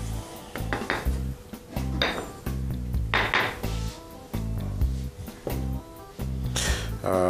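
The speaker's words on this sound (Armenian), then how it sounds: "և կտրատում ենք պանիրը" Cheese being cut for a chicken roulade, a knife tapping repeatedly against a board and dish with close, clattering clinks in an irregular rhythm, no talking.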